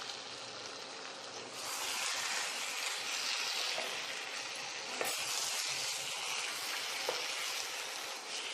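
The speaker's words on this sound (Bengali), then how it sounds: "অল্প একটু জল দিয়ে ভালো করে মাংসটার সাথে কষিয়ে" Meat sautés in a pan with a little water, a quiet hiss that swells into a steady sizzle, broken by an occasional light clink of a utensil.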